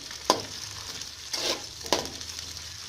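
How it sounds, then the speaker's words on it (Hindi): Okra (bhindi) frying in lightly heated ghee over a low flame, a soft continuous sizzle with a few sharp clinks and stirring scrapes spaced across the sound. "अब मैं इसमें ये भिंडी डालने लगी। अब मैं इसको लाइट ब्राउन करूँगी हल्की आंच पे।"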